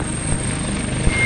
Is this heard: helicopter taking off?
yes